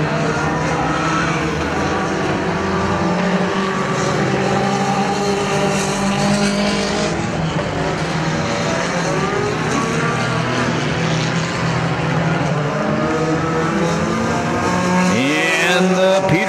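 Mini stock race cars roar around the dirt oval at Perris Auto Speedway, engines loud and continuous with pitches rising and falling as cars pass close by and accelerate through the turns.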